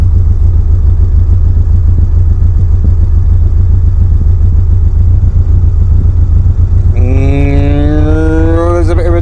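A car engine fitted with a performance cam idles low at around 950 RPM, a loud, deep, lumpy rumble that throbs steadily throughout, joined near the end by a rising higher-pitched whine.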